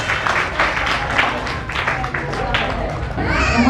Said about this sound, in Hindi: आप सभी लोगों से निवेदन है कि अतिथि के आने का या वक्ता के आने के लिए आप तालियों से स्वागत करें